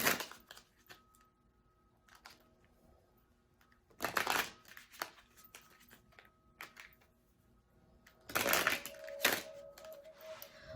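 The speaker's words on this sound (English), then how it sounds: "let me go ahead and pull this cards I have here, the Chakra Wisdom or from the Chakra Wisdom Oracle deck" Chakra Wisdom Oracle deck cards riffled in several separate bursts of shuffling, close and fairly quiet, with brief pauses and light handling taps between them.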